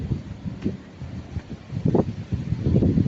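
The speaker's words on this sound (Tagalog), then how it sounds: "Habagat dito ngayon sa Batangas, napakalakas ng hangin" Strong habagat monsoon wind gusts in Batangas near the sea, buffeting the microphone in a constant loud rumble with swelling bursts, with no voices.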